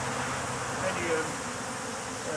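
Steady insect buzzing of honey bees hovering close by around a hive, a continuous hum at moderate level with no voices.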